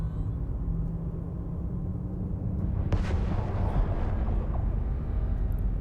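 Deep, booming spaceship weapon fire in EVE Online, a low rumbling bed with a sharper blast near the middle and dull thuds trailing after, no talk.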